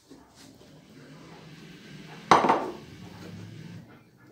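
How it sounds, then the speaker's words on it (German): Rye flour sourdough with lukewarm water being stirred in a bowl: soft scraping and knocking of a utensil against the bowl, with one louder clatter midway, then steady quieter stirring. "Man verrührt das Ganze jetzt nochmal gut"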